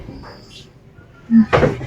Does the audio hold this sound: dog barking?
no